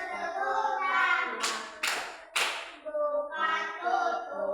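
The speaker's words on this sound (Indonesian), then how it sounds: "Bertepuk tangan." Three sharp hand claps land in quick succession partway through a children's clapping rhyme, with a sung or chanted voice carrying on before and after them.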